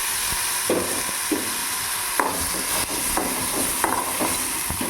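Peanuts frying in a pan with onion, masala, tomato, curry leaves and salt sizzle steadily, with repeated scraping stirs and spatula knocks at an irregular rhythm, close and clear without speech.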